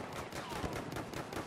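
Gunfire in the video game Battlefield 1 crackles in a dense, rapid burst of overlapping shots and machine-gun fire, distant and fairly faint.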